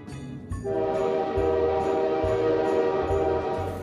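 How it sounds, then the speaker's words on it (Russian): Wind-up toy train with turning gears and wheels, giving a steady whirring, whistle-like tone with regular soft chugging pulses, close and alone. "самый обаятельный поезд в мире, который заводится. Всякие шестеренки, колесики двигаются."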